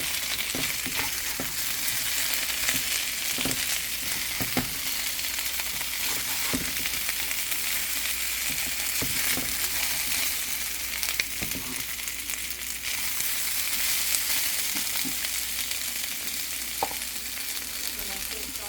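Potatoes fry in olive oil in a pan over lowered heat, giving a steady, close sizzling hiss with occasional soft scrapes and pops as they are stirred.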